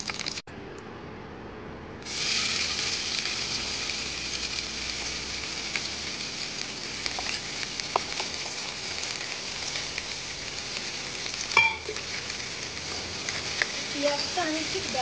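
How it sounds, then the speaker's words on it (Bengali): Whole spices fry in hot oil in a pot for a mutton dish, breaking into a steady close sizzle after a quiet start and holding a bright hiss throughout, with faint voices and a few clatters. "এটা একটু ভাজা হওয়ার পরে আমি পেঁয়াজটা দিয়ে দেবো।"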